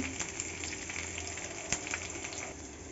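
Sliced pointed gourd frying in a pan with ginger and salt before egg goes in, a steady close sizzle with faint crackles and light stirring taps, no voices.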